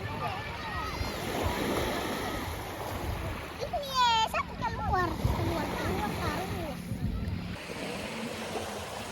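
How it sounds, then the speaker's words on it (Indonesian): Waves wash and splash along Hanie beach while children bathing in the sea chatter and call out nearby, with wind noise underneath. "sekaligus bocil-bocil mandi di pantai"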